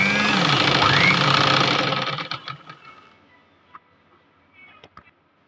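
A sewing machine stitches a belt onto a princess-cut blouse, running in a loud steady whir for about two seconds, then stopping and leaving faint clicks and handling noises.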